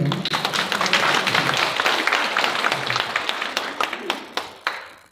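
Audience at a lecture breaking into applause, a dense patter of many hands clapping that thins into scattered individual claps before fading, with faint voices underneath.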